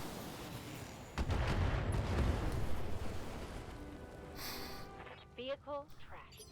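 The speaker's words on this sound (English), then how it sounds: "Put some long-range missiles into it." Long-range missile volley fired in the BattleTech mech strategy game, a burst of rumbling launches and impacts followed by trailing explosions, with a voice talking over the action.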